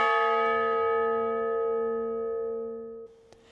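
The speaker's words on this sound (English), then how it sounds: "The new Colorado Honor Bell tolled 7 times during today's Colorado Remembers tribute." A single strike of the Colorado Honor Bell at an outdoor Memorial Day weekend remembrance ceremony, one loud clear toll ringing with long sustained overtones that slowly decay over several seconds.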